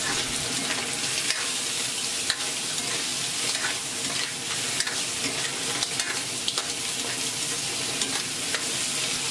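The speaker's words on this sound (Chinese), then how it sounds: "加上几片柠檬，稍许翻炒。" Clams stir-fried in a wok with a few lemon slices, a dense steady sizzle with scraping stirs and light metallic clinks throughout, close and fairly loud with no talking.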